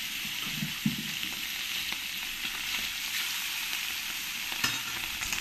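Small mourala fish sizzle steadily in hot oil in a pan, a constant close hiss with a few faint clicks of stirring and no talk.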